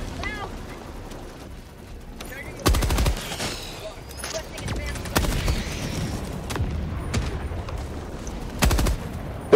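Machine gun fire in Helldivers 2 combat, several loud sustained bursts of rapid automatic shots breaking out among scattered booms and battle noise, with players talking during the fighting.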